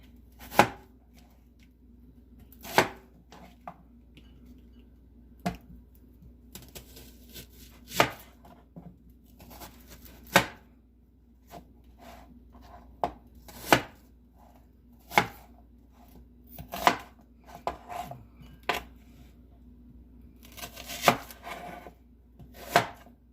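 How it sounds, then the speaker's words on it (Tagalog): Knife chopping an onion into quarters on a cutting board for shrimp sinigang, with sharp, evenly spaced single cuts roughly every one to two seconds, close and clear against a quiet kitchen background. "Sa sibuyas naman, hihiwain lang natin siya na parang quarter."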